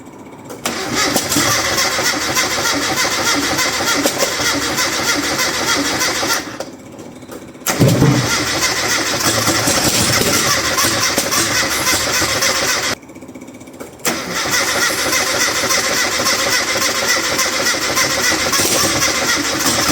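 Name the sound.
carbureted engine being started and revving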